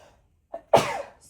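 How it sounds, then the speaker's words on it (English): A single close, sharp sneeze from one person, preceded by a brief inhaled catch and followed by a fading exhale, with quiet around it. "I feel like I'm gonna sneeze."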